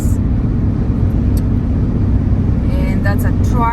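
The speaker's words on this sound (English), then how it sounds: "And that's a truck." A truck passes on Interstate 35 South in Kansas, heard from inside a moving car as a loud, steady low road rumble under a person talking.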